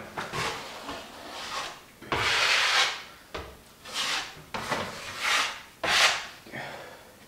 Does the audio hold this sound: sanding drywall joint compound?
yes